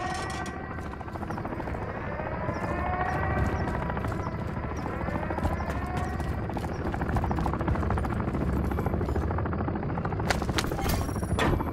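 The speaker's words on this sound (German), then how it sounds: "Der Kampfheli will's wissen!" An attack helicopter flying in Modern Warfare III: a continuous rotor chop with sweeping, Doppler-like whine under a thick engine rumble, with sharp impacts bursting in near the end.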